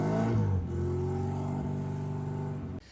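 A junkyard MG Midget's small engine runs and drives, a steady buzzing drone that dips as the revs settle, close and fairly loud, ending with an abrupt cut.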